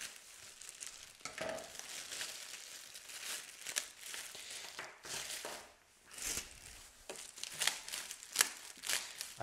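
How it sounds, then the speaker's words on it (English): Plastic protective wrap crinkles and tears as it is pulled off a new ceramic whole-room space heater, in several bursts of close, dry rustling with brief pauses between them. "I'm just gonna take the plastic"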